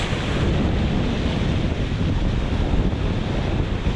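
Moving sea water swirls and washes at a beach where metal detecting is done in the water, a loud, constant roar of surf and churning water, with wind buffeting the microphone close by.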